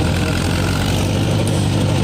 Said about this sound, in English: this is an Allis Chalmers a D17, 63 horsepower, a 4-speed transmission with high-low range